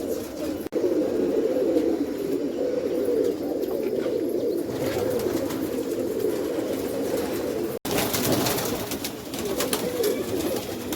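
Pigeons coo continuously in a racing pigeon loft, a dense low murmur of overlapping calls held steady at close range throughout.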